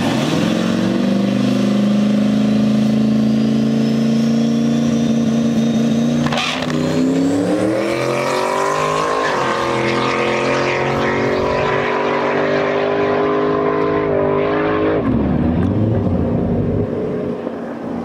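A drag car at full throttle on a no-prep strip, its engine roaring loud and close with a rising pitch, shifting and climbing again over about eighteen seconds before fading slightly at the end, no voices.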